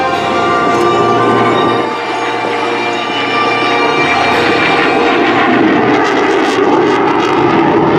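An F-35 fighter jet flying a demonstration pass at an air show, a loud sustained roar of engine noise filling the whole stretch with little change in level.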